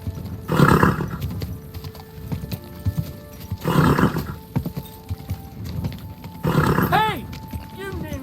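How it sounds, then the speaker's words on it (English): A horse in the medieval video game Kingdom Come: Deliverance 2 gives a rising whinny near the end after bursts of clip-clopping hooves, with a voice speaking between the sounds. "Easy, good horse."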